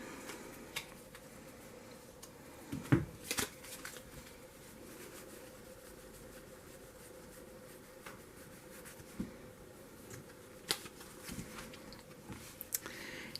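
Playing cards being handled and sorted on a table, soft irregular ticks, slides and taps against a faint background hum, quiet and close with no talking.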